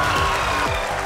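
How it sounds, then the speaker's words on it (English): Crowd applause fills ISRO mission control in celebration of the Chandrayaan-3 moon landing, a steady dense wash of clapping with some voices mixed in throughout. "People are applauding"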